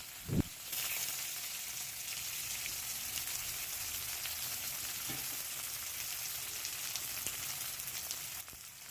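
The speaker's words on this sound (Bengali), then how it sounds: "সেই করলাগুলো এখানে ভেজে নেওয়া হবে" Round slices of bitter gourd fry in mustard oil with a salt sprinkle, a continuous close hissing sizzle after a brief clatter at the start, steady until a slight change near the end.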